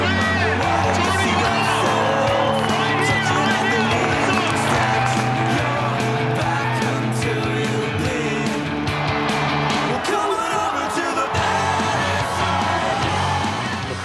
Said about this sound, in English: The crowd went crazy. They were the loudest crowd, even for the most basic tricks.